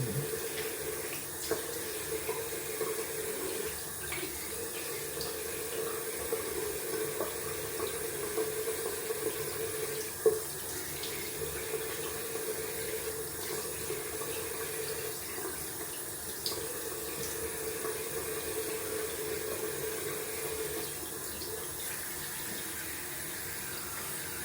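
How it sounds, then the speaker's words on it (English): Cold tap water runs in a steady, even stream, as if splashing into a sink, rinsing after a wet shave, with a couple of faint knocks and no talking. "Rinsing off cold water."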